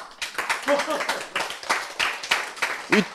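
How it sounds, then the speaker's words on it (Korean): Scattered, uneven hand claps come in short bursts during a Korean health lecture about genes. They are fairly close and sharp, interleaved with people talking and laughing. "이런 때는 박수 쳐대."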